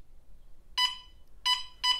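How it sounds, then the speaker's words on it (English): An in-home plug-in gas detector alarm gives three short, sharp electronic beeps, loud and close, separated by brief silences. "if gas builds up, an alarm sounds, warning you to get out"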